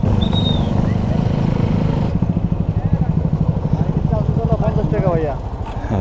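A motorcycle engine chugs and idles at close range in the parking area of a bike show at ICCB in Dhaka, its pulsing throb steady under nearby voices talking.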